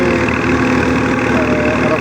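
A tractor pulling a small trolley in rural Punjab, its engine running in a loud, steady, close diesel drone with a continuous low throb and no breaks.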